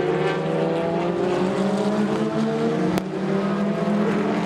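LMP1 hybrid prototype race cars at a WEC endurance race roar past, a dense, sustained engine wail with layered high-pitched harmonics, loud and steady, with a brief sharp transient near the end.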